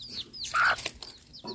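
A hen clucks in short, close bursts outdoors on a farm, with a louder squawk in the middle and faint bird chirps around it.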